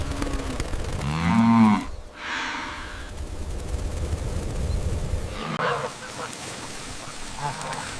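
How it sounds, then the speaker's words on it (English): A gaur feeding at the edge between forest and grassland gives a single deep, drawn-out lowing call early on, heard against a steady soft outdoor ambience. "At the soft boundary between forest and grassland, gaur feed on the rich fringe of green."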